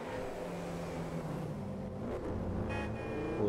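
A Lamborghini Sian (2020) supercar engine in GTA 5, a steady low motor drone with rising rumble toward the end, heard alone and fairly even in level.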